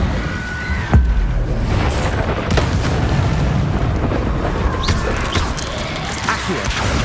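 In the video game Hogwarts Legacy, an Incendio fire spell bursts out with a loud, dense whooshing roar and booming impacts. The blast sits within a continuous, noisy combat soundscape.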